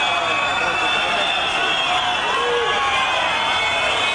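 Hostile crowd booing and jeering as Inés Arrimadas leaves the Catalan Parliament in Barcelona, a dense, steady roar of many voices filling the whole stretch at constant loudness.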